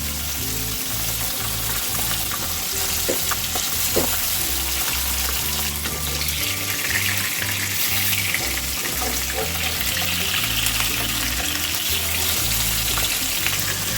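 Pabda fish frying in oil, a dense continuous sizzle and crackle with a pulsing low rumble underneath, steady and close throughout.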